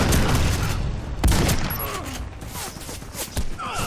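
Turret fire in the video game Warface comes as a rapid run of sharp gunshots and bursts, loud and close, under shifting game noise and mechanical clatter.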